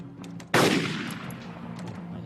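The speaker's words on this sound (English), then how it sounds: "Oh, I hear a gunshot." A single sharp gunshot blast cracks out in an online multiplayer game, loud and sudden, followed by a decaying tail and a steady background hum with faint game noises.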